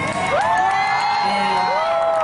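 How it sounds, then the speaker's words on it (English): A crowd at a Michael Jackson memorial ceremony cheers and whoops loudly and steadily, with high shouts and calls rising over a continuous roar of voices. "So I think everybody right now should give Michael a round of applause."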